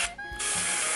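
Spray paint hissing onto a Dragon King miniature from Kingdom Death: Monster: a steady, close, bright airy hiss that starts after a short burst and then runs on evenly, with no talking.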